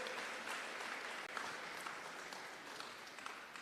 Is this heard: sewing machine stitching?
no